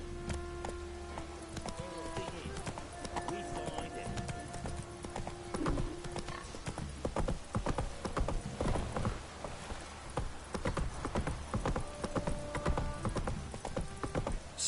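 Hooves of Roach the horse clip-clopping in The Witcher 3, a steady, moderately quiet walking rhythm with mechanical game sounds and occasional voices in the background.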